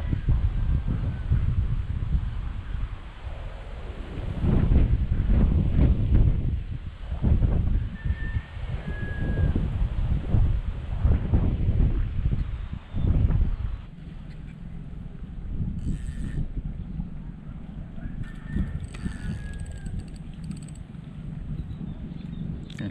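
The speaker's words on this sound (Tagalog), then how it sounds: "Grabe naman ang hangin na yun." Strong wind buffets the microphone with heavy low rumbling gusts, easing partway through into a steadier, quieter blowing.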